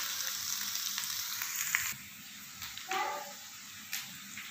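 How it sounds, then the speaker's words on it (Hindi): Chicken frying in a pan, a steady close sizzle running throughout with a few brief clinks and stirring knocks, no talking. "हमारा चिकन जो है वो तकरीबन फ्राई हो ही गया है"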